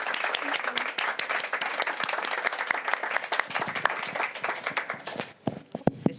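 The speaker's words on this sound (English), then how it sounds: "Let's give a round of applause to Alma." An audience applauds steadily, then the clapping thins out into a few scattered, separate claps before stopping.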